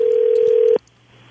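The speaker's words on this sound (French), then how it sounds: "C'est Cindy qu'on appelle." A steady telephone dial tone holds loud for under a second before cutting off abruptly, leaving a faint line hiss as a live radio call is placed.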